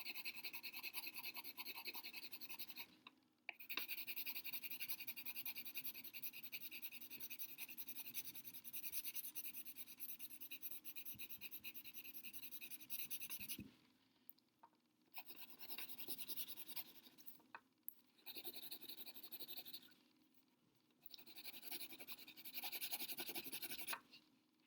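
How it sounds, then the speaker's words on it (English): Pencil shading on paper with steadily harder pressure, long raspy scratching strokes close up, broken by short pauses between passes. "I'm pressing more and more pressure as I get to the darker values."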